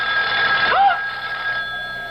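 In a radio drama, a telephone rings with a steady bright electric bell tone that sustains through the whole moment, loud and close, with a brief voice-like swoop in the middle.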